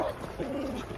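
A dog yips and whimpers at a pig on a village lane near a guest house in the Georgian mountains, with short, close, excited bursts and no talking.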